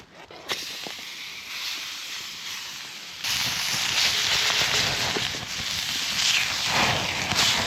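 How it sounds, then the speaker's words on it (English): Steak sizzles over an outdoor campfire, a steady close hiss with fine crackling that grows noticeably louder and denser partway through, with no talking. "while I cook the steak"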